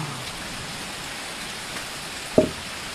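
Steady rain falls throughout, a soft even hiss with no talk and one brief knock near the end.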